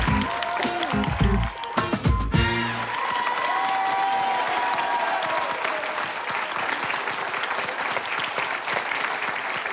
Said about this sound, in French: on applaudit encore Lise et Fabi pour leur témoignage